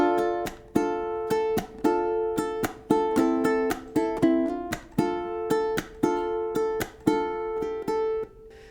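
Ukulele picking the opening bars of a song, bright plucked notes and chords in a steady syncopated rhythm, clear and close with no talking.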